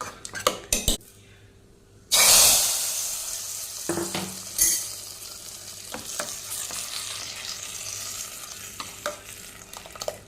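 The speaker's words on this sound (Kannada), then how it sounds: "ಒಣಮೆಣಸಲ್ಲಿ ಒಗ್ಗರಣೆಯನ್ನು ಇಟ್ಟರೆ ಒಂಥರ ಪರಿಮಳ ಆಗಿ ಚೆನ್ನಾಗಿರ್ತದೆ ಇವಾಗ ಒಗ್ಗರಣೆಯನ್ನು ಹಾಕ್ತೇನೆ" Dry red chillies drop into hot oil for a tempering, a loud burst of sizzle that settles into steady frying, with spoon scrapes and metal clinks against the pan throughout.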